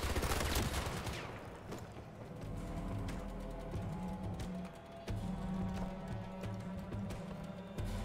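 Gunfire from Battlefield 2042 during the Liquidators event, a busy stretch of shots and bursts in a dense, steady mix, with a heavy cluster near the start and continued firing throughout.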